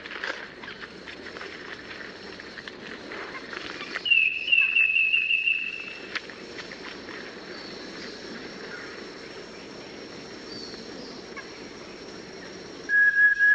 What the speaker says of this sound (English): Other animals eat the wood itself, like this cricket with its monstrous eyes.